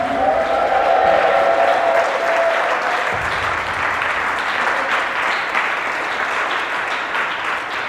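A church congregation bursts into loud, sustained applause and cheering for the Lord, a dense wash of clapping with voices calling out over it throughout.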